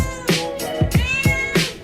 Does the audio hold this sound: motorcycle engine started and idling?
no